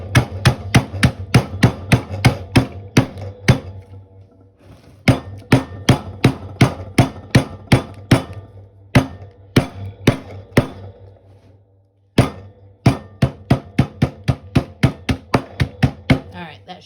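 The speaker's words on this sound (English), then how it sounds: "I'm going to put them in this bag because it's easier to crush them in here." Pecans are crushed in a plastic bag with sharp, repeated impacts in quick rhythmic runs, separated by short pauses, close and loud throughout.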